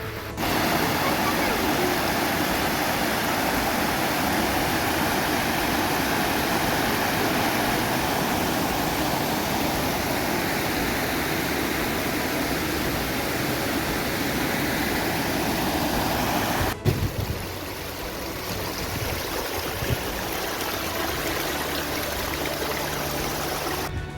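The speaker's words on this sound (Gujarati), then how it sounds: "કેવા સરસ મજાના પાણી વહી રહ્યા છે" Water runs steadily at Hinglaj Dham in Kutch, a continuous rushing wash that stays loud and even throughout, with a brief knock near the end.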